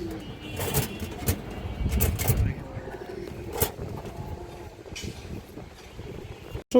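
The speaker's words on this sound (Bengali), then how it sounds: "খুব সুন্দর একটা মাদি কৌতার" A female pigeon and other pigeons coo softly nearby in a bird-selling setting, low repeated murmuring calls mixed with background noise while someone talks over them.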